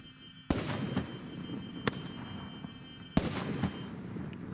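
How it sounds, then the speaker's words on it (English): Pyrotechnic bangs from a fire marker device simulating indirect artillery fire during a combat training exercise, three sharp reports spaced a second or so apart over a steady rumbling background, no voices. "Fire marker cars are in place during the exercise and mark the indirect fire with bang and"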